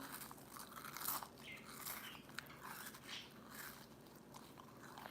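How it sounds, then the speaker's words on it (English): Close, quiet ASMR-style crunching and biting on crackers, with repeated crisp bites and chewing spread over a few seconds. "It's a cracker ASMR."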